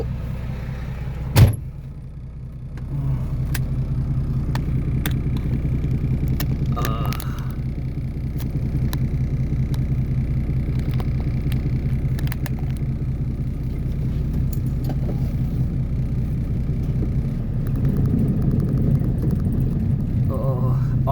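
Pickup truck driving in second gear with a vibrating engine, a steady low rumble heard from inside the cab, with a sharp knock near the start and some light clicks and rattles over it.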